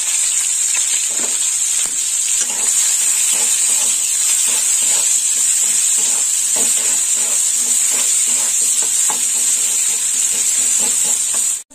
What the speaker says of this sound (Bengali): এবার পেঁয়াজটাও দিয়ে দেবো।